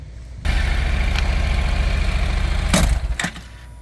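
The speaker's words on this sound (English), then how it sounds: "turn on the bike. Accelerate your bike." A motorcycle engine runs during chain cleaning and lubing, starting abruptly into a steady, loud, low idle rumble with a brief throttle blip near the end before settling.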